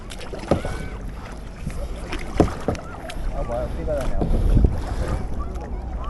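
A kayak being paddled on the Onkaparinga River near Adelaide, with intermittent paddle splashes and strokes close by over wind noise on the microphone, and voices talking now and then.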